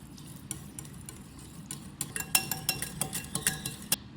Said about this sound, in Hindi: ये मैंने दही लिया है, हाफ़ kg मेरे पास दही है। इसको मैं फेंटूँगी।